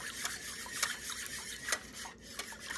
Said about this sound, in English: Whisk that on in with it